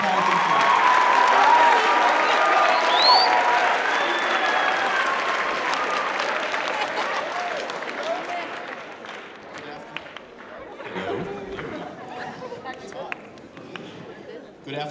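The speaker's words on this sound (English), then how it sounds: "Ladies and gentlemen, I'd like you to give a big round of applause to Mr." Audience applause fills a high school auditorium during a World War II veterans symposium, loud and sustained at first, then thinning to scattered claps and murmuring chatter as the crowd settles.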